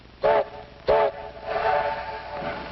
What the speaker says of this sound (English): That must be our train.